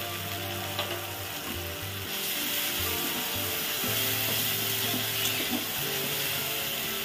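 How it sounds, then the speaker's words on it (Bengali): A ground paste of cumin, garlic and dried red chili hits hot oil with fried onion and softened tomato, giving a steady close sizzle and frying crackle with occasional stirring clatter of a utensil in the pan. "এবার আমি এখানে জিরে আর রসুন শুকনো লঙ্কা বাটাটা এর মধ্যে দিয়ে দেবো।"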